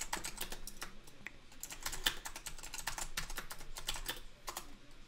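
Rapid keystrokes clatter across a computer keyboard while code is typed, an uneven stream of close, crisp clicks with brief pauses and no voices.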